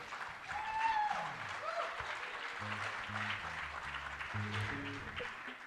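An audience claps as Dileep is called up on stage, the applause sitting quietly under a strong musical backing with a melody and a pulsing bass line.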